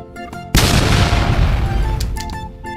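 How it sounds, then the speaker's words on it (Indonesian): A single loud gunshot-style blast fired in a toy battle of Iron Man against a Power Ranger, starting abruptly after brief quiet and leaving a long rumbling decay that fills the rest of the moment. "Sekali tembakan langsung kalah ini Power Ranger-nya guys"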